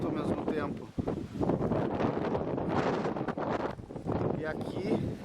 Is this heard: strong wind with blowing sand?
yes